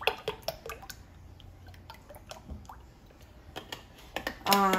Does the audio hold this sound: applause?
no